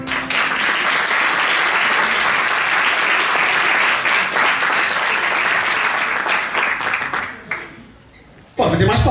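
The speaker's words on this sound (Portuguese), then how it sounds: "Pode ter mais palmas, certo?" A crowd at a children's rights anniversary arts event applauds loudly and steadily for about seven seconds, then the clapping thins and fades before a sudden burst of sound returns at the very end.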